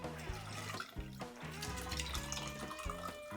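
Water poured from a Boston shaker tin through a spring strainer, a steady splashing stream that runs for several seconds with small gurgles and a brief break, heard close and alone.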